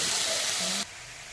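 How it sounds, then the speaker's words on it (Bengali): Ginger paste with green chilli and cumin paste frying in oil over a cumin tempering, a bright, close hiss that stops abruptly after under a second. "আমার আদাটা ভাজা হয়ে গেছে"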